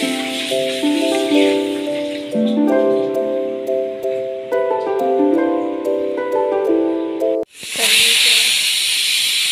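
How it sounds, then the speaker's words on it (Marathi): A pressure cooker steaming rice gives a steady hiss beneath a tonal, melodic layer, then bursts into a loud, sustained rush of steam near the end. "भाताचा कुकर लावलेला आहे स्टीम राईससाठी."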